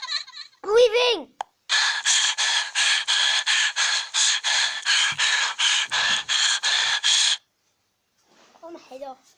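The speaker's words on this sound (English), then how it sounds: "Breathing." Breathing sound effect from the video game Five Nights at Freddy's: after a short gasp, about fifteen quick, even, raspy breaths repeat in a steady rhythm, then stop, leaving near silence with faint noises.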